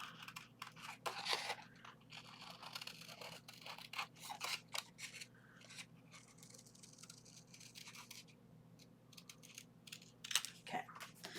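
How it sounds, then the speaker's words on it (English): Scissors snip through paper while a Halloween-themed paper mini album is assembled, giving a run of crisp, close cutting clicks and crunches with brief pauses between strokes. "And then I'm just going to cut it with"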